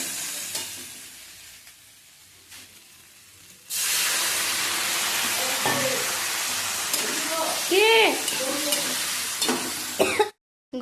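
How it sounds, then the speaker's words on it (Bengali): After a quiet stretch with faint clicks, cauliflower starts cooking in a pan with a sudden loud, continuous sizzle, and a voice talks over it before the sound cuts off abruptly. "এখানে আমি ফুলকপি রান্না করছি"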